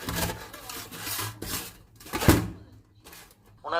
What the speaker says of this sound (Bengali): এবার গ্রেটারে গ্রেট করে নিই